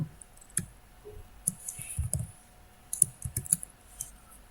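Light keyboard typing while writing CSS code, with soft scattered clicks and small bursts of keystrokes, close and fairly quiet, with no talking.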